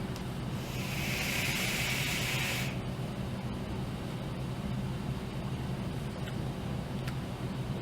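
Someone draws hard on a Vaporz Cloud Asgard 30mm RDA at 200 watts with the airflow fully open, producing a steady airy rush that cuts off after about three seconds, followed by a low background hum.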